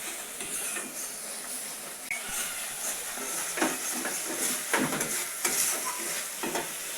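Spice masala sautéing in a pan while vegetarian beans are cooked on a newly built clay stove: a steady sizzle and hiss with stirring scrapes rising and falling throughout, close by and without talk.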